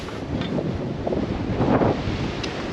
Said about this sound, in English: on a day like today where it's super windy but super warm